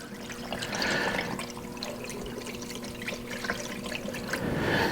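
Distilled vinegar pours steadily into a coin-operated laundromat washing machine, a continuous liquid trickle and splash with a faint mechanical hum beneath, no voices.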